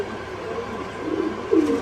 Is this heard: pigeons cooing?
yes